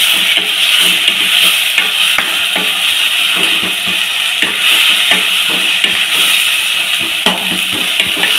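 Raw prawns with gongura cooking in a village-style pan, a loud, continuous bright sizzle with irregular soft scraping and ticks as the mixture is stirred, steady and close throughout.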